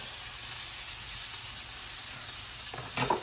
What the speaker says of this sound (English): we're gonna baste this side a little bit